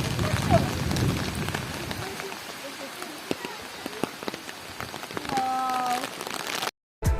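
Steady rain patters on a surface close by in Rinchenpong, West Sikkim, with a few scattered knocks and a short tonal sound near the end.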